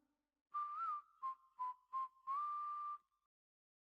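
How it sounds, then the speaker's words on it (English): Melodic whistling from a Snow White song, heard as a long phrase, then three short separate notes, then another long sustained phrase, clear and unaccompanied with no voices. "Is it me, or does that whistle sound weirdly artificial?"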